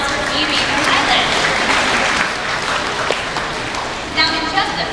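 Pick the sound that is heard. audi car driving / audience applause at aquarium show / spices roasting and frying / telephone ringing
audience applause at aquarium show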